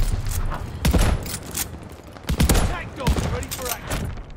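Shotgun gunfire in a video game, several loud blasts spaced irregularly amid game effects, with a voice speaking over parts of the action.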